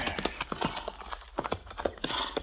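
Horse hooves clip-clop in a radio drama sound effect, a fast rhythmic patter of repeated hoof strikes running throughout, close and fairly loud.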